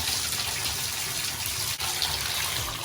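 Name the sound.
water gushing from a household pipe tap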